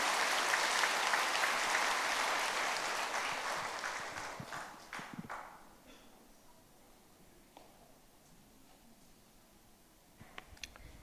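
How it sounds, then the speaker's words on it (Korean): A church congregation applauds its young adults during a multigenerational worship service, loud sustained clapping that gradually fades into quieter scattered claps and room noise. "우리 청년들을 위하여서 뜨겁게 격려의 박수 올리도록 하겠습니다"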